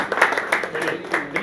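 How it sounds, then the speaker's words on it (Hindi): Audience clapping at a press conference for a Hindi film, with bursts of applause rising and falling over about a second and a half, mixed with voices. "फिर से लॉकडाउन को अनलॉक इस प्यारी सी फिल्म के लिए तालियां हो जाए जोरदार"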